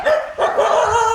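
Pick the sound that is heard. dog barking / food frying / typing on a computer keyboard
dog barking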